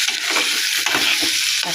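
Onions and dried red chilies sautéing in a pan for onion chutney, a steady close sizzle and frying crackle with soft stirring scrapes throughout and no talking.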